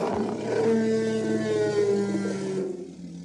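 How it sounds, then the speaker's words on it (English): Mammoth roar chosen as the sound for Utah's NHL hockey team, a deep, loud, sustained bellowing roar with harmonic growl, lasting about three seconds before trailing off, heard alone. "That's the sound of a mammoth, by the way."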